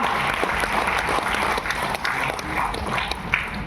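An audience at a Vestige meeting claps together in steady, dense applause that carries on without a break, loud and close, with no voices standing out.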